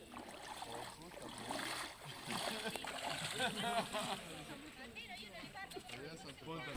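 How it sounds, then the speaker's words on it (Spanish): Feet splashing and sloshing in icy cold water at a spring pool in Croatia, a steady close watery churning with people talking over it. "Voy a meter los piecitos al agua."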